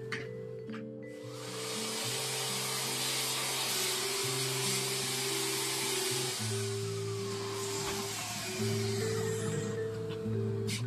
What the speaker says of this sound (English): use the vacuum cleaner to vacuum up any shavings you have.